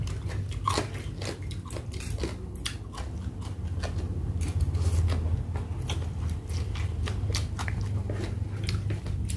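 Khao pun rice noodles being eaten close to the mic, with continuous wet chewing and crunchy biting in a quick irregular rhythm that never lets up, and no talking.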